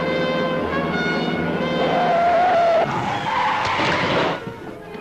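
A car with failing brakes skids in a 1954 film scene. Its tires screech loudly and continuously for several seconds, with the engine roaring underneath, before the noise drops away.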